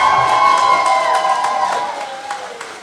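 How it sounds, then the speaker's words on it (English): An audience at a student media awards ceremony claps and cheers, with whoops and shouts riding over steady applause that loudly fills the room before slowly fading. "A round of applause,"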